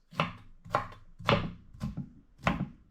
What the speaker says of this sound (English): slice them like that, and just chop up into small pieces